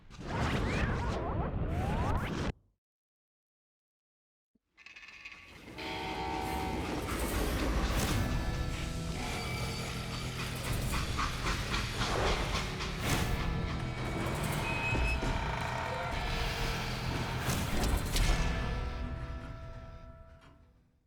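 A freight train rolling along in the Western video game Call of Juarez Gunslinger, a loud sustained rumble with rattling wagons and metallic clatter; a brief burst, a couple of seconds of silence, then steady, continuous movement.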